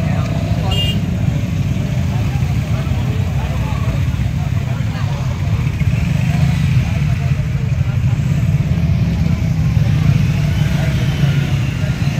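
Motorbikes ride in a rally on the road, a continuous engine drone with revving that carries through the whole stretch, while people talk over it.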